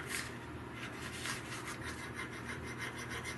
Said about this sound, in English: I'm using my small files. Jeweler's files and the 220 grit emery.